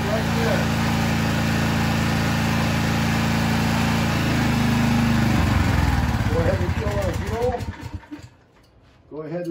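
A Generac 4000EXL portable generator converted to propane runs loud and close, its engine hum dipping and roughening as it is choked, then steadying as it is adjusted; birds chirp faintly in the background.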